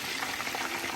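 Chicken wings frying in a pan after being flipped, giving a steady, dense crackling sizzle with no pauses, moderately quiet and close, with no talking.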